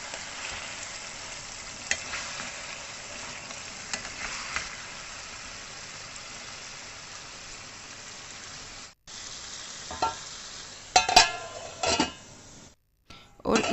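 About half a kilo of whole tomatoes go into a pan of sizzling charsi chicken karahi, a steady crackling fry with a few scraping, clattering stirs and sharper bursts near the end.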